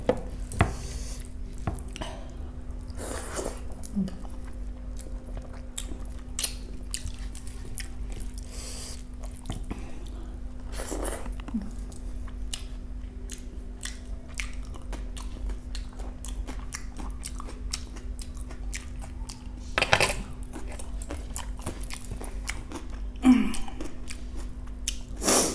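Close-up eating of jackfruit (kathal) curry and dal with rice: soft wet chewing and mouth sounds, with a sharper crunch or utensil tap every few seconds against a quiet steady hum.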